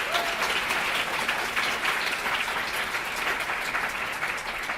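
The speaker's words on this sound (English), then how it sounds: "Just a round of applause for the incredible 15 women pulled this together." Steady audience applause fills a hall at a women's leadership summit, a dense, even wash of clapping from many hands that holds at a constant level throughout with no voices over it.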